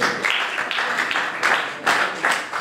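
Graduation audience clapping in loud, sustained applause, the dense hand claps swelling in uneven surges, with no talk over them.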